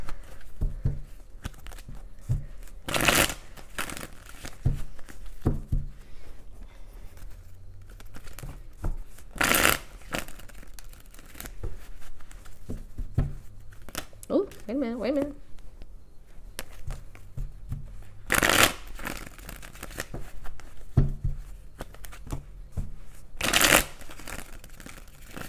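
A deck of tarot cards shuffled during a reading, with several loud riffling bursts spaced a few seconds apart and softer handling and tapping of the cards in between, no talking.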